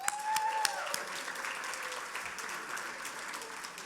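Gala audience at a charity benefit dinner applauding sponsors, a steady wash of many hands clapping in a large room that fades slightly toward the end.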